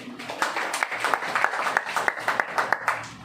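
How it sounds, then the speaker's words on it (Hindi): Audience at a sales training meeting claps, a thin, scattered run of individual hand claps in a loose rhythm, fairly near but not very loud. "जोरदार तालियां।"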